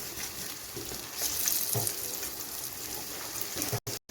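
Spinach chops crackle and sizzle in hot oil over a low-to-medium gas flame, a close, continuous frying hiss with a few brief pops and clicks.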